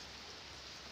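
Steady rainfall, a dense even hiss of drops filling the short moment at a constant low level, with no voices.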